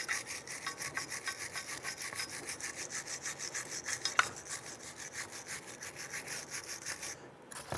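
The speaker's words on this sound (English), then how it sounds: "Grab your bristle brush." A stiff bristle brush scrubs rust off the brake slider areas of a 1999-2004 Jeep Grand Cherokee, a close, rhythmic rasping back-and-forth of quick even strokes continuing throughout, with no voices.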